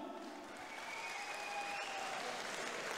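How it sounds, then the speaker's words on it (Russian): An arena audience applauds MMA fighters at a Battle of Nomads event in Kazakhstan, a faint, distant, steady clapping wash with a faint tonal hum running underneath. "Аплодисменты бойцам!"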